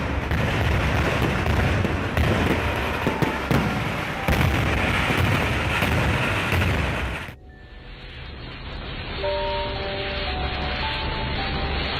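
A stash of fireworks goes off in a chain reaction of explosions at a wedding, a dense, loud barrage of bangs and crackles that continues for several seconds before dropping to a thinner rumble with faint tones.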